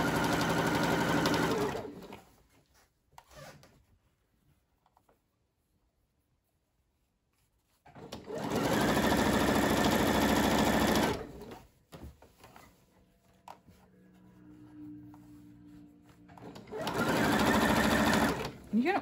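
A sewing machine stitches bias tape onto bandana fabric in loud, sustained runs of rapid whirring, separated by quiet pauses with small handling clicks and a low hum.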